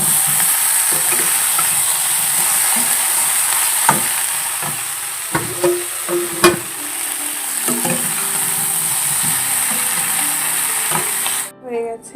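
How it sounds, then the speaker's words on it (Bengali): Cauliflower fries in a hot wok with a continuous hiss and sizzle. Scattered stirring scrapes and a few clunks sit on top of the frying noise, which cuts off abruptly near the end. No voices are heard. "এই যে ফুলকপিটা কড়াইটা জ্বালিয়ে দিয়েছি চলো রান্নাটা করে নিই"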